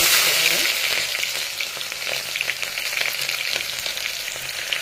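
About a cup of finely chopped onion fries in ghee for ghee rice, giving a loud, steady sizzle with scattered crackles and spatula stirring. The sizzle is close and continuous, with no talking.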